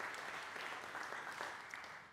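At a scholarship awards ceremony, a crowd applauds a recipient: soft, sustained clapping that sounds somewhat distant and fills the moment without any speech.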